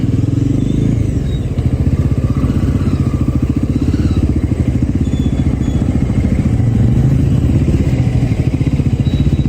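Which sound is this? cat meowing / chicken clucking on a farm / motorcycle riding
motorcycle riding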